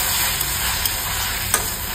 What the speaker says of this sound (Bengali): আদাটাকে ভালো করে কষিয়ে নেব।